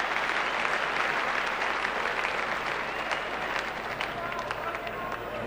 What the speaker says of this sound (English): applause there from Madassa